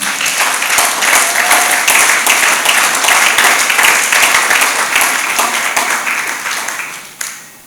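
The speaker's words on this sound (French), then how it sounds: "Est-ce qu'on peut encore acclamer le Seigneur?" A church congregation applauds and cheers in praise, a dense, steady wash of many hands clapping that holds loud for about seven seconds before thinning out near the end.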